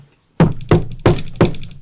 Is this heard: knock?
yes